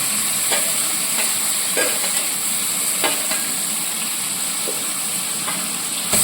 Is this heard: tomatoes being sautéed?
yes